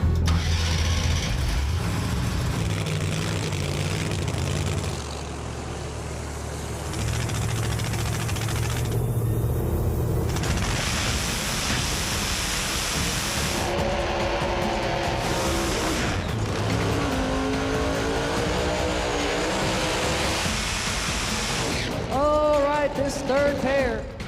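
A Pro Charge Mustang drag race car at a no-prep street racing event revs loudly, its engine roaring close and steady, then sweeping up in pitch near the end, with a voice talking over it.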